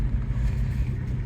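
A 1982 Saab 900 Turbo barn find drives along with a steady, continuous low engine rumble heard from close by, with no talking.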